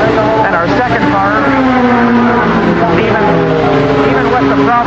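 Group 44 Triumph TR8 race car at Sebring, its engine droning steadily and loudly at close range throughout, with a voice talking over the engine noise.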